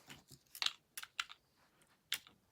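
Scissors trimming down a wreath base give a handful of quiet, crisp snips and clicks at irregular intervals, close up with no talking.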